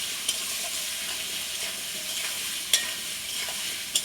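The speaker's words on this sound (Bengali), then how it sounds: "আলুটা একটু লাল লাল করে ভেজে নেব" Potatoes seasoned with salt and turmeric fry in hot oil, giving a steady broadband sizzle with faint stirring scrapes and a few sharp clicks, close and continuous with no voices.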